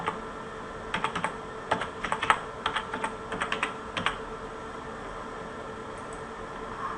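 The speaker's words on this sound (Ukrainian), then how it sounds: "Лівою клавішою мишки клікнули в блоці слайда, надрукували текст" Computer keyboard keys clack in short irregular clusters as text is typed into a presentation slide, close and moderately loud over a steady background hiss, with no speech.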